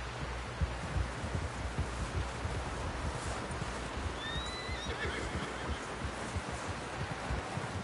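A horse whinnies once with a rising, wavering cry over a steady bed of outdoor wind and rustling, its hooves faintly clip-clopping throughout at moderate distance.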